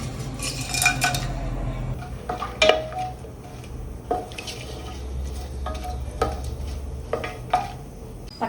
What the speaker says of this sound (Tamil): இது என்ன சூடானோடனே பட்டை கிராம்பு லவங்கம் இந்த பிரிஞ்சி எல்லாம் எல்லாத்தையும் சேர்த்து இதில் போட்டுடலாம்